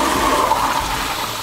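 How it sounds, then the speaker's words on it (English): A dual-flush water-saving toilet flushing, a steady, close rush of draining water that carries on through the whole short stretch with no speech. "you flush up, it uses less water than when you flush down"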